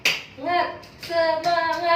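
A classroom group performs a rhythmic clapping chant during a school counseling session, with voices chanting in unison alongside a few sharp hand claps in a short burst.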